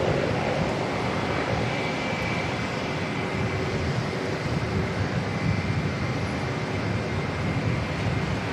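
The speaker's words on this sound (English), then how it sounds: "Right, Cathay 198 off to Hong Kong." Cathay Pacific flight 198 departs Auckland Airport for Hong Kong, its jet engines roaring in a steady, loud, broadband rumble that holds evenly throughout with no voices.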